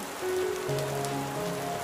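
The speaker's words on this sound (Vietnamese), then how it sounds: "Em đang phải dính những hạt mưa vào người để quay cho các bác xem" Rain falls steadily on a balcony garden of melon vines, a dense, even patter on leaves with faint tonal hum in the background and no speech.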